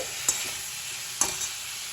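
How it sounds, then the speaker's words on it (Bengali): Chicken with vegetables, salt and pepper being stirred in a pan, two quick scraping strokes of a utensil over a soft continuous sizzle, close by and brief, with no talking. "নুন আর গোলমরিচ দিয়ে নাড়িয়ে নেব"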